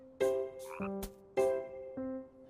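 A frog croaks loudly in a few separate bursts, two pairs of deep, ringing calls spaced about a second apart with clear silence between them.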